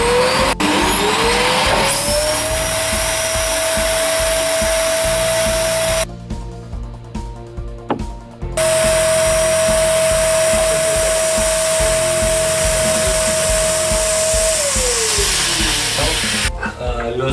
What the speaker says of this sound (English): Stop the heater, turn on the vacuum.